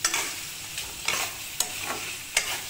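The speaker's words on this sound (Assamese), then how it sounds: "এটা আদা নহৰু পেষ্ট দি পেলাই মই মানে ভালকৈ ভাজি লৈ পানী দিম" Pork with ginger garlic paste frying and being stirred in a pan, soft steady sizzle broken by several sharp scraping strokes of the spoon, close and alone without talk.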